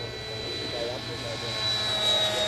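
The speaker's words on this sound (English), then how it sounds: "they thought this sounds pretty close to a turbine" Electric ducted fan of a radio-controlled F-16 model jet, giving a steady, loud turbine-like whine with a high tonal edge that swells slightly toward the end, heard outdoors with wind and background noise.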